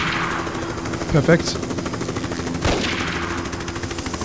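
Enemy gunfire in Tomb Raider: The Angel of Darkness: a few sharp bursts of shots over a steady game backdrop, with someone speaking briefly in German between them.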